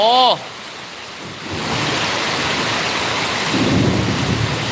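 Heavy rain falls in a steady, wide hiss, joined by a low rumble of thunder toward the end, after a brief tonal sound at the very start.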